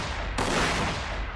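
A single gunshot fired in the Warhammer 40,000: Sanctus Reach strategy game: a sharp, loud blast that decays into a long, dense roar of rumbling noise, heard alone with no talk.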